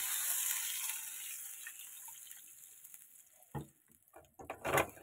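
Water poured into a pot of fish curry with taro roots, potato and brinjal, a steady close gush that thins out and ends in a few splashes and clunks.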